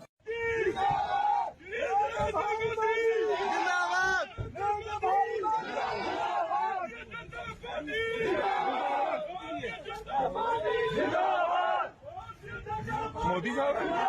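A large crowd chants Narendra Modi zindabad slogans at a political gathering in Punjab, loud rhythmic shouting with babble and cheering throughout, brief dips between bursts.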